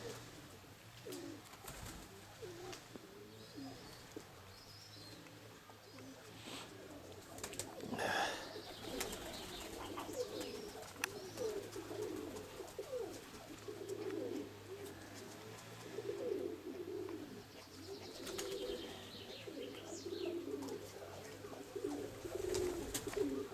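Pigeons coo softly and repeatedly at close range, low murmuring calls over quiet outdoor background, with a brief flutter partway through.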